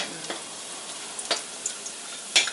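Garlic frying in oil for a Thai pork and winter melon soup, a faint steady crackling hiss broken by a few brief bursts of sharper sizzle, with no talking.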